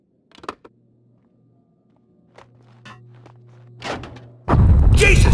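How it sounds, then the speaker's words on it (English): A bomb going off in Max Payne 2, a sudden loud broad blast at the end after quiet footsteps and thuds, close and roaring. "A bomb? That was a bomb!"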